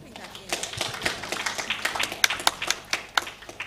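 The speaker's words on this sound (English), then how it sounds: "Let's give it a round of applause" A round of applause at a data and analytics event, individual claps distinct and fairly close, building from scattered hands into a brisk, uneven patter, with talk mixed in underneath.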